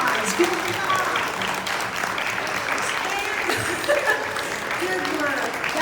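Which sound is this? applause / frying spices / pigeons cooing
applause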